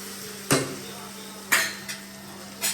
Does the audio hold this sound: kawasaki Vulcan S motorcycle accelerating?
no